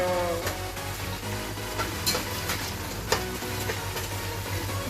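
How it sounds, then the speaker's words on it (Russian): Onions fry for Tajik plov with a steady sizzle in a pan, occasional clinks and stirring scrapes, continuous and fairly close, no voices. "Лук будем жарить до красного цвета."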